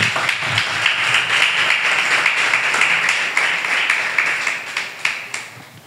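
Church congregation clapping loudly during a Spanish-language sermon, a full, sustained burst of many hands close by, steady and energetic before easing slightly near the end.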